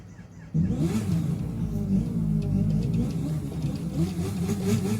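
A double-exhaust motorbike in The Crew 2 racing game revs, its engine note jumping in after a brief pause and then holding a loud, steady, throaty drone close up, without talk.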